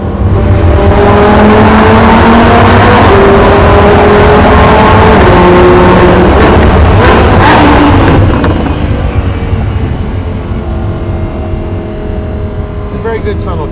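A 2016 Lamborghini Huracan LP 610-4 revs hard through a tunnel with the window down, its engine note climbing and falling in loud, echoing sweeps from inside the cabin, with a voice briefly audible over it.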